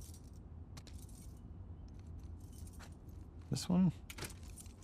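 Keys jangle briefly and loudly in The Last of Us Part II as a character tries a bunch of them, a short metallic rattle near the end over quiet ambience and spoken dialogue.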